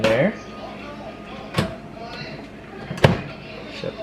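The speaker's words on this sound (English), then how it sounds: "Shut the door." An air fryer door shuts with a couple of sharp, close knocks and clunks as a voice talks at the start.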